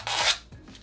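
Adhesive backing is peeled off a home burglar alarm sensor mount, a short close rasping tear lasting a fraction of a second followed by a faint softer rustle.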